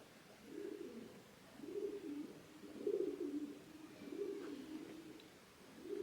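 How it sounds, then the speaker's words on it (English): A pigeon coos nearby, several low, throaty rolling phrases repeated at a steady pace against a quiet background. "That pigeon's really loud."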